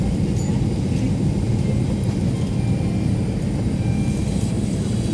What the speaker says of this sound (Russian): Неплохой такой самолетик, надо сказать, смотрите.